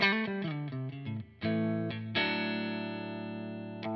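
An electric guitar played on the neck single-coil pickup through a Friedman-style amp model gives a clean tone: a quick run of plucked notes, then ringing chords that sustain and slowly decay.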